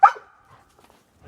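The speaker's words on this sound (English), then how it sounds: "look at this dog." A dog gives a single sharp bark right at the start, loud and close, followed by quiet with faint scattered rustling.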